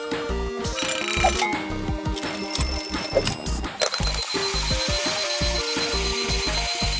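Toy car alarm clock on wheels ringing: a rapid, insistent mechanical bell clatter in bursts with short pauses, close and loud, continuing steadily without any talk.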